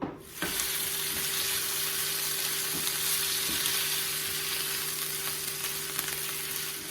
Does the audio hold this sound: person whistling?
no